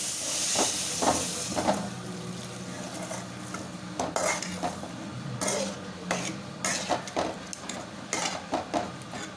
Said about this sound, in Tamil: நல்லா கொதிக்கட்டும்